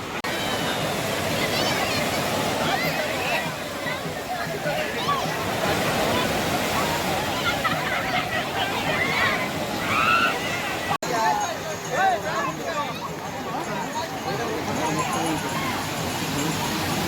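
Sea waves at Marina Beach, Chennai roll in as a continuous loud wash of surf, with a steady broadband roar throughout and people talking over it.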